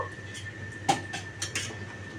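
A lid is set onto a pot of simmering egg and potato malai curry, giving a sharp metallic clink followed by a few lighter rattles and taps of cookware, quiet against a low kitchen hum.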